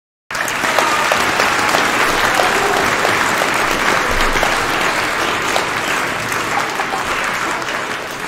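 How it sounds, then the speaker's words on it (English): Sustained applause from a crowd at a middle school Veterans Day program, steady and loud throughout, with dense clapping filling the whole stretch after a brief silent start. "Give them a round of applause"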